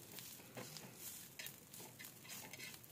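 Onion sautéing in a little oil in a pan, with garlic cloves and small pieces of ginger added, gives a steady soft sizzle under repeated scraping and stirring of a spoon against the pan, with no talk.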